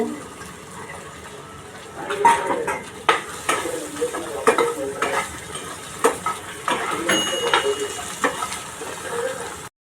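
Chopped okra stir-fried in oil in a kadhai, with a soft continuous sizzle under repeated scraping and clattering strokes of a spatula against the pan.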